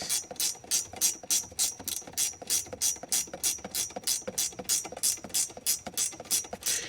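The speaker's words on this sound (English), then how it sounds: "You don't so much need to hold the top when you're tightening it up." A ratchet tightening bolts on a K-brace being fitted to a Renault Clio 182 Trophy, a fast regular run of clicking pawl strokes, close and crisp, continuing evenly throughout with no talking.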